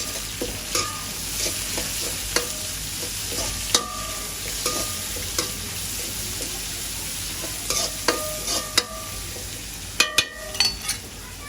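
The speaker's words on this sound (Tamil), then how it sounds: "சீரகம் போடுவோம் பெரிய சீரகம் நல்லா மிக்ஸ் பண்ணிவிடுவோம்" Fennel seeds fry in a hot pan while being stirred, giving a steady soft sizzle broken by irregular clinks and scrapes of the spoon against the pan.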